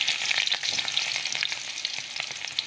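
Garlic and onion sautéing in plenty of hot oil, a steady dense sizzle with brief crackles and stirring scrapes, close and fairly loud, with no voices.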